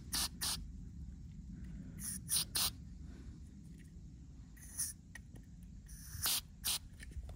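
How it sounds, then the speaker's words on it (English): Carburetor cleaner sprayed through the jets of a Kawasaki Brute Force 300 carb in a workshop: several short, loud aerosol hisses in separate bursts, with a low steady rumble between them. "spray the carb cleaner through it to see whether this the holes around are free"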